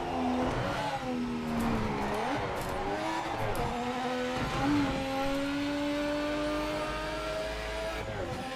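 Porsche race car in Project Motor Racing, engine revving up and down through gear changes with sweeping pitch rises and drops, a tire squeal at the end, loud and close with no talk.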